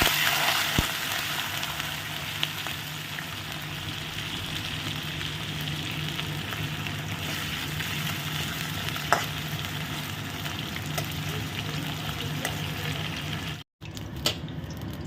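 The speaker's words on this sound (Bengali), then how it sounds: "নিয়ে এবার একটু লাল লাল করে ভেজে নেব।" Finger-cut potatoes fry in hot oil in a pan, a steady close sizzle with light crackles and a few clinks of stirring, then a brief dropout near the end.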